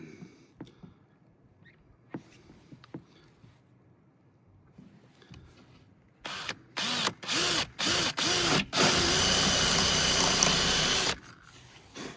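A power drill with a bit bores holes in a kitchen countertop, with light handling clicks first, then loud close bursts of drilling and a long steady grinding stretch.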